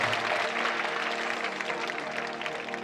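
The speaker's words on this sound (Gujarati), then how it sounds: "આપણે તાળીઓથી એમનું અભિવાદન કરીશું" A village audience in Vadiyavir, Idar, applauds Chief Minister Vijay Rupani at a public welcome ceremony. Steady, moderately loud clapping from many hands continues evenly throughout.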